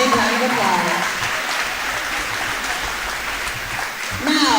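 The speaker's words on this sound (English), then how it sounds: "Please stand and show your appreciation by giving them a big round of applause." Crowd in a school gym applauds the volleyball game officials before a Parker/Marion versus Chester match, steady dense clapping lasting the whole stretch with some voices and cheers mixed in.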